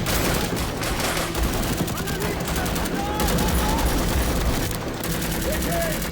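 Sustained gunfire as Taliban fighters fire on snipers, rapid bursts and scattered shots layered densely under a speaking voice.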